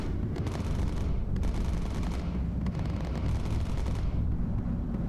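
Anti-aircraft flak fire in the bomber game Bomber Crew, a continuous heavy rumble of bursting shells and rattling gunfire, loud and dense throughout with booming low end.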